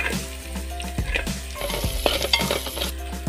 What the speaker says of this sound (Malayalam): ഇതിൻ്റെ അകത്തേക്ക് നമുക്ക് സവാള ഇട്ട് കൊടുക്കാം.